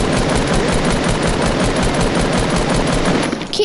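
Rapid automatic gunfire in a video game, a dense unbroken burst of loud shots close up, easing slightly just before the end.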